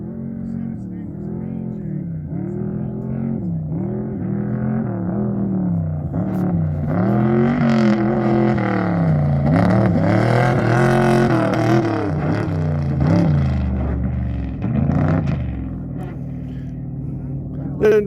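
A newly bought truck drives slowly through a testing area, its engine note rising and falling in wavering pitch as it approaches and passes, while someone talks over the steady rumble.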